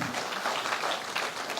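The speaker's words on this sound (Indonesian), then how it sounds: "Berikan tepuk tangan bagi Tuhan kita." A church congregation claps together for about two seconds, a dense, steady wash of hands filling the room with no talk over it.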